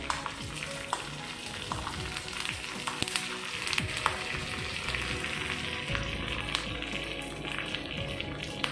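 Dried red chillies and curry leaves frying in a pan of oil for Kerala pumpkin erissery, a steady close crackle and sizzle with scattered sharp pops and spoon stirring throughout.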